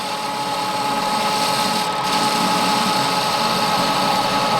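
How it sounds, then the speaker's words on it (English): A lathe turns the ends of round metal stock with a CNMG carbide insert, giving a steady, close machine hum with a constant whine throughout, with no talk. "Next step is to turn the ends of the round stock."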